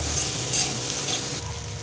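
Sliced onions frying in hot oil with turmeric and salt for a Bengali boal fish curry, a steady close sizzle with faint stirring, continuous throughout with no talking.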